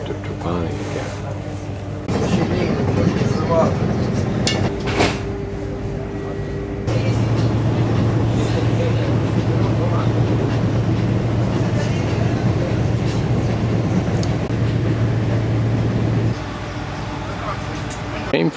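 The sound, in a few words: modern train running near Trapani, Sicily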